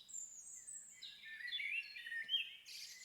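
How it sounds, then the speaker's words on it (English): Birds chirp and sing in the ambient soundscape of Halo Infinite, a steady layer of high, overlapping calls and trills that runs the whole moment without anyone talking. "I'm gonna turn the birds down a little."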